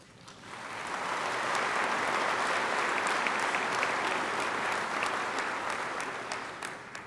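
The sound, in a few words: audience applause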